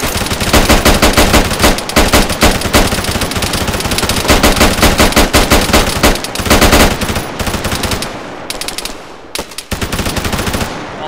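Sustained automatic gunfire from an ArmA 3 convoy ambush, loud, dense bursts of rapid shots rattling nearly nonstop, with a few brief pauses before the firing trails off into shorter volleys.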